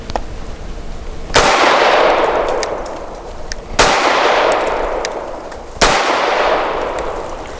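Three loud, sharp pistol shots from a Tisas Zigana PX-9 G2 firing heavy 100-grain rounds outdoors, each crack followed by a long ringing decay, spaced a couple of seconds apart.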